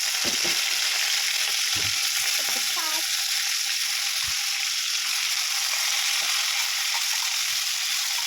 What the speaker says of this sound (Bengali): লাল লাল হয়ে গেছে এবার চিংড়িটা আস্তে আস্তে ছেড়ে দেবো